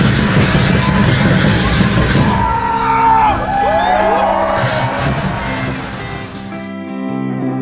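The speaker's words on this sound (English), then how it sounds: "Please give a round of applause to our warriors." A crowd at a Hawaiian luau-style show on Oahu cheers, whoops and claps for performers called warriors, loud and dense at first, then thinning out as scattered voices and a few calls linger.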